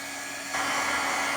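A hair dryer switches on about halfway through to dry ink stamped on a handmade paper tag, a steady loud broadband blowing hiss that continues to the end.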